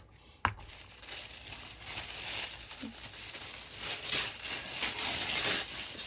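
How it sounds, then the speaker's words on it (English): Close, crackly crinkling of paper being crumpled, rising and growing denser over several seconds, with a sharp tap near the start. "I'm going to crumple it all up"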